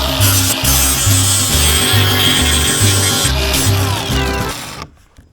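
Hand rubbing along the sharp edge of a plywood sheet to break it, a loud, close, rhythmic back-and-forth rasping that stops abruptly near the end.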